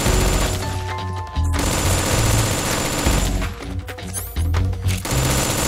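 Turret machine gun in Metal Gear Solid 3 rattles off sustained rapid bursts, loud and close, with brief gaps between volleys and game effects layered over the fire.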